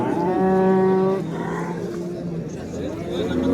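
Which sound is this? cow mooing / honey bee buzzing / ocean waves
cow mooing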